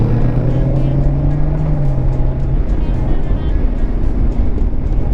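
A big 1100cc motorcycle engine runs loud and close, a steady throaty drone with a slight shift in pitch, and no talking over it.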